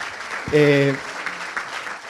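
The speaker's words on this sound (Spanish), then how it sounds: "merece un aplauso, totalmente" Applause from an audience at a food-policy congress rustles faintly beneath someone speaking Spanish, a soft continuous patter under the voice.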